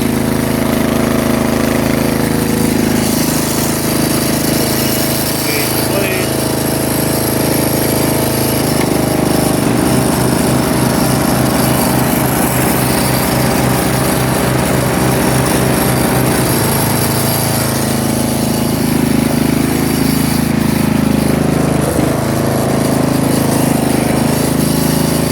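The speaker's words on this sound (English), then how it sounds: "she starts up, she cuts grass, no problems." A Craftsman riding lawnmower engine, choked and started, runs steadily at close range; a rapid chugging pulse rises in the middle of the run and then settles back into a loud, constant drone, with no talk.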